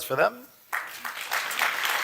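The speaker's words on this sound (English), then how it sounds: "How about a round of applause" A voice briefly speaks, then applause breaks out from a summit audience for two speakers, starting abruptly and building into steady clapping from many hands.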